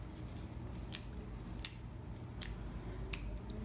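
Basil leaves being torn by hand into a custard for a tomato pie, a few short, quiet crisp snips and rips spaced out over a steady low kitchen hum, with no talking.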